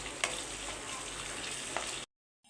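Green chillies and salt fry lightly in ghee for ghee rice with an even, moderate sizzle and a couple of faint clicks, which stops abruptly into silence near the end.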